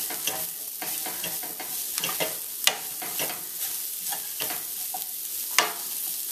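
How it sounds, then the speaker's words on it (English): Shredded cabbage with scotch bonnet pepper stirred in a pot, a soft sizzle with repeated scraping and clacking strokes, two sharper knocks standing out, close and moderately loud, no voices. "Give that a quick stir."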